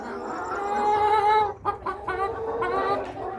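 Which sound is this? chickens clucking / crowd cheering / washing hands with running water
chickens clucking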